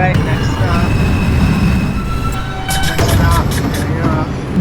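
A metro train in a video game runs with a loud, continuous rumble and rolling noise, with some brief higher clanks partway through and a faint announcement-like voice.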